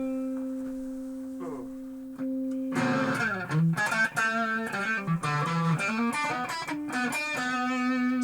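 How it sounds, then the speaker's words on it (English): A Lyon by Washburn electric guitar with distortion rings out a sustained note, then launches into a loud, gritty run of chords and riffs with sharp attacks and a wiry, bright edge, played alone. "distortion"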